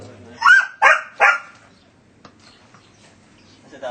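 A dog barks three times in quick succession, sharp and close, then falls quiet, leaving only faint scattered sounds.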